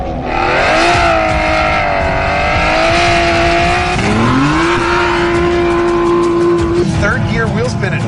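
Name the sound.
Aston Martin V12 Vantage S wheel spin at rev limiter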